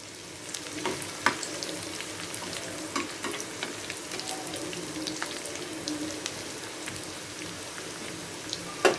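Onions and three small chillies frying in a pan with cumin, a steady close sizzle with scattered clicks and scrapes of a spatula stirring, no talking.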